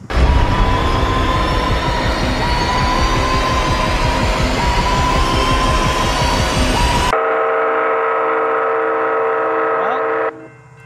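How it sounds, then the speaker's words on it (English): A train rolls past on railway tracks nearby, a loud continuous rumble and clatter of wagons, then cuts to a sustained horn blast ringing out before fading at the end. "Train started coming"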